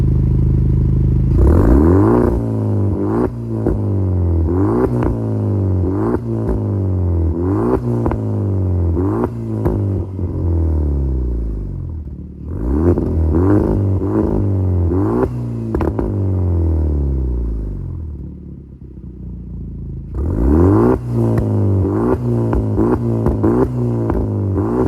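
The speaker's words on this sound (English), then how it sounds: "so those were the rev clips" A Hyundai Genesis Coupe running an Alpha Speed tune is revved hard in repeated blips, each rise and fall close and loud, in three bursts with short idle pauses between them.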